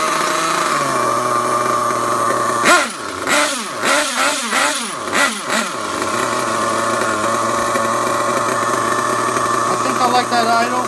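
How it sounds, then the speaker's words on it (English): A nitro RC car with a DYN.28 engine idles steadily with a high buzzing drone, broken by a few quick blips of revving in the middle before settling back to idle; someone talks over it. "like that idle. She's idling pretty good."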